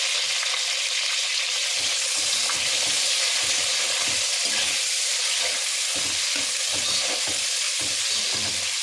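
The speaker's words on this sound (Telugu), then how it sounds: "ఆనియన్ అనేది బాగా ఫ్రై అయిన తర్వాత ఆనియన్ అలా ఫ్రై అవుతుంది" Onions frying in hot oil with whole spices and green chillies, a steady close crackling sizzle throughout with occasional stirring.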